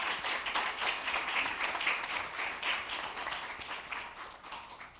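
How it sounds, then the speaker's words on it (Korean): Audience applause at an international peace economy forum on the DMZ, a steady round of many hands clapping for about five seconds, moderately loud and even, gradually easing toward the end. "이 부분에 대해서 다시 한번 여러분 박수 한번 보내드리죠"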